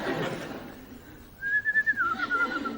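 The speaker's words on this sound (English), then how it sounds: "No whistling." A brief whistled tune, a wavering note that slides downward, following a moment of muffled background sound.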